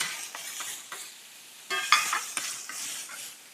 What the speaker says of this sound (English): put the onion in and let that cook for a few minutes